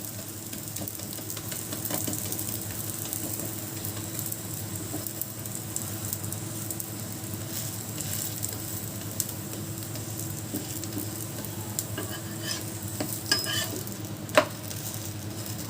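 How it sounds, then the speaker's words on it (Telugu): Moong dal bobbatlu flatbread fries in ghee on a pan, a steady soft sizzle and crackle that holds evenly throughout, with a few light scrapes and taps near the end and no voices. "అటు ఇటు తిప్పుకుంటూ కాల్చుకోనండి బాగా ఫ్రై అవుతుంది"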